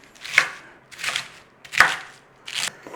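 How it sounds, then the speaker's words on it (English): A knife roughly chops vegetables such as cabbage on a cutting board for an Irish corned beef bake, four distinct close thuds spaced about half a second apart, with no talk. "all you do is rough chop everything"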